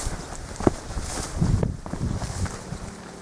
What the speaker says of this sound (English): It's a beautiful breeze, really easy going